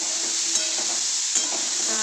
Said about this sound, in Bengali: বন্ধুরা এখানে মটরশুঁটি আর ক্যাপসিকামটাও আমি দিয়ে দিলাম, দিয়ে একসাথে সব নেড়ে নিচ্ছি।